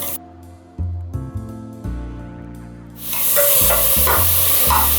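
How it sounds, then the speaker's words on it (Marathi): Chopped tomatoes hit a pan of onions and fry with a loud, rising hiss that settles into a steady close sizzle, after a tonal music-like hum at the start. "हे टमाटे चांगले शिजेपर्यंत ना परतून घ्यायचं।"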